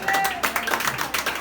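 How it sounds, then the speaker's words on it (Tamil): Brief burst of hand clapping from a small gathered crowd at a family house dedication, rising and falling in uneven waves over roughly a second and a half, with faint voices mixed in. "ஒரு கைத்தட்டு கொடுப்போமா?"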